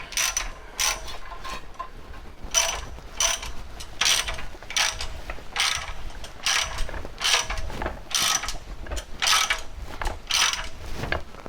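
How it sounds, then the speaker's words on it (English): A ratchet wrench working bolts on a Nissan 350Z subframe, a close, clicking ratchet in repeated bursts of rapid pawl clicks separated by short pauses. "This is really not bad with the ratchet."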